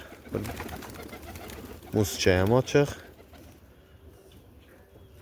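Pigeons coo in a bird loft, giving a few close, soft rolling coos in the middle, with someone talking briefly before them.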